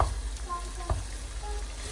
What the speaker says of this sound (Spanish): Para que sude y la tapamos. Vamos a que se dore bien.